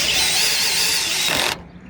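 Cordless power screwdriver driving screws on a Roman roof tile fixer: a loud, steady high-pitched motor whine with ratcheting clutch, which strains briefly and then cuts off abruptly near the end, leaving quiet.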